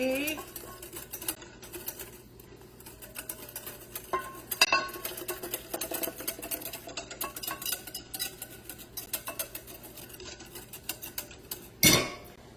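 Eggs and vanilla-bean crème brûlée custard are whisked quickly in a bowl, giving a steady run of light scraping and clinking with a sharper knock near the end, while a person talks over it.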